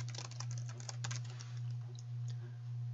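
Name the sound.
typing a name on a computer keyboard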